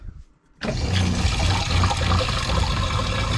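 Water rushes loudly and steadily after a quiet start as a small camper van's water tank is primed, a continuous gushing flow with no talking.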